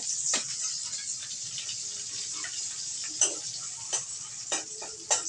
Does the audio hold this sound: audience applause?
no